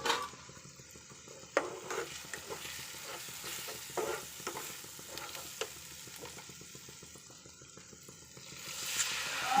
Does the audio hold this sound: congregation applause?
no